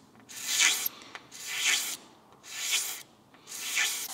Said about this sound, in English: Scrape off the top with the blade.